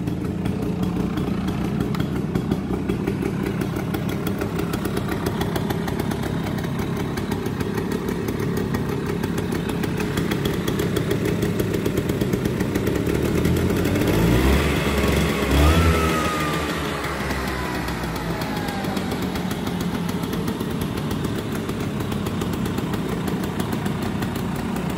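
A Piaggio Vespa PX125 scooter engine runs steadily with a loud close putter, then revs up and back down around the middle before settling into its running note again, with no talk over it.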